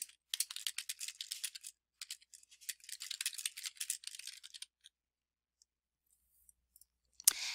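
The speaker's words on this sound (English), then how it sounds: "so I've got to type" Rapid clicking keystrokes on a computer keyboard, typed in quick uneven bursts over several seconds, then a pause and one final tap; fairly faint and close, with no talking.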